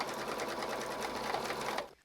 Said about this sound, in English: And now edge stitch.